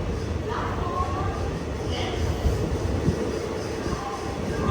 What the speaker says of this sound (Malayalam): കറക്റ്റ് 5:30 തന്നെ ചെറുവത്തൂർ പാസഞ്ചർ എടുത്തിരിക്കുകയാണ്.